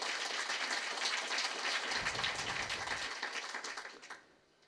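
Audience applause at a Giffarine business gathering, a dense burst of clapping that holds steady and then fades away toward the end, with no talk over it.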